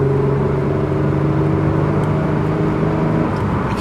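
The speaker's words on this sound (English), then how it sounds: "when you accelerate more enthusiastically, the exhaust gets a really nice note to it." A 2003 Mitsubishi Eclipse engine and exhaust drone steadily under acceleration, a loud, continuous low hum with a sustained tonal note heard from inside the car.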